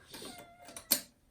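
A domestic cat gives a short, quiet meow nearby, ending in a brief higher cry, with no talking over it.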